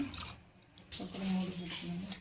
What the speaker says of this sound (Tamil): சாப்பாட்டுக்கு தகுந்த தண்ணி ஊற்றிக்கலாங்க.